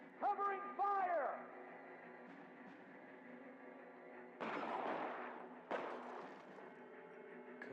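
Video game gunfire booming in a few heavy bursts, loud and close, with a voice shouting and talking over the shots.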